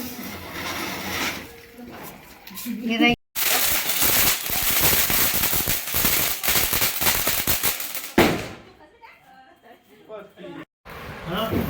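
Firecrackers burst outdoors during Diwali celebrations in a long dense string of rapid crackling pops, loud and sustained for several seconds, with people talking before and after the bursts.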